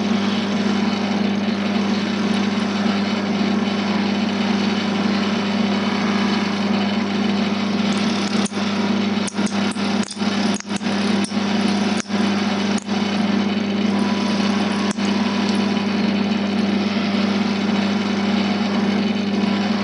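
A wood lathe spins a segmented pen blank while a bevel-riding tool takes fine cuts, giving a steady high motor whine and hum with light, brief scraping ticks in the middle, close and continuous without talk.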